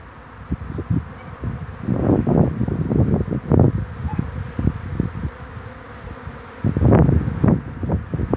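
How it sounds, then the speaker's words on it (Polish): Bees buzz close to the microphone outdoors as they chase off arriving pigeons, with repeated swelling bursts of droning wingbeats rising and fading over a faint windy background. "Te pszczoły po prostu gonią gołębie, jak przylatują."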